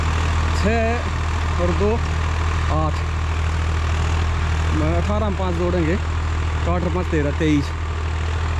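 A 2023 Swaraj 855 FE tractor engine runs with a steady, loud, low drone throughout, while someone talks over it.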